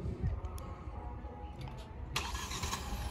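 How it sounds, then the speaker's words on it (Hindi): A Kia Sonet GT Line facelift, a 2024 top model, starts by remote key: faint car noise, then a sudden burst as the engine fires near the end of the short stretch. "तो ये हो गई भाई गाड़ी स्टार्ट अपनी"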